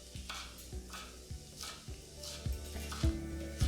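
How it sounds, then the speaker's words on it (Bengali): Onions frying in oil in a pan give a steady low sizzle, with repeated scraping stirs at a regular rhythm, close and fairly quiet. "আর এই পেঁয়াজটা যতক্ষণ ভাজা হচ্ছে"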